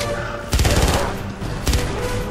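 Gunfire in the Avatar video game set in a jungle: two short, loud, close bursts of rapid shots over a steady rumbling background, with no voices during the shots.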